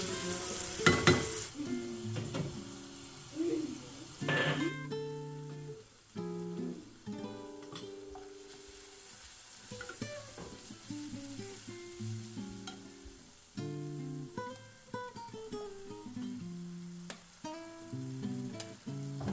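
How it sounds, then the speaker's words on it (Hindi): Paneer toasts and sizzles in a pan, a soft continuous frying hiss with stirring and scraping, heard close but partly covered by background music throughout. "पनीर भी साथ में यहाँ पे टोस्ट कर लेना है"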